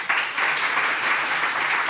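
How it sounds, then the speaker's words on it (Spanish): Studio audience applause on a Spanish political talk show set, a steady dense burst of clapping at moderate volume throughout, with no talk over it. "Que sepas que el público presente hoy en el plató solo ha aplaudido a Alba Vila y a ti."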